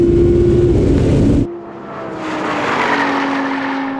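A Porsche Cayenne Turbo GT and an Audi R8 in a rolling race from 50 mph, engines roaring loudly under hard acceleration, then an abrupt shift to a rising, strained engine note with steady wind and road noise.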